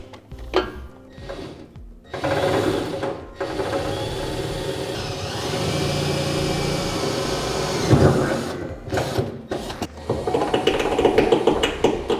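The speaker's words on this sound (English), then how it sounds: "we're going to use a small drill bit to drill a pilot hole up through" A power drill with a small bit boring a pilot hole up through the bed of a 2015 GMC Sierra 2500 during a gooseneck hitch install: a sustained whirring drone of about six seconds, with brief metallic handling noises before and after.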